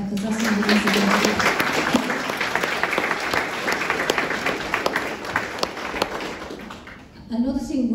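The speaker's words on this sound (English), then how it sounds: "I think he deserves a round of applause for that" A book-launch audience claps in a sustained, dense burst of applause that fades out near the end, as a voice starts up again.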